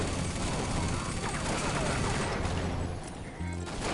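A Gatling gun fired by a heavy-class character in a nearly deserted online shooter, a continuous roaring stream of rapid shots that fills the whole stretch and then briefly cuts out near the end.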